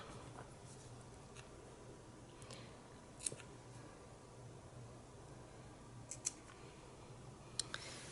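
Scissors trimming the yarn end of a kumihimo braided lanyard, heard as a few faint, quick snips and clicks spread across a quiet background, close by with no talking.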